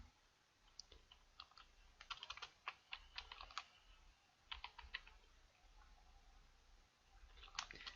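Typing text on a computer keyboard, faint clicking in quick irregular bursts with short pauses between, close and alone over a quiet room hum.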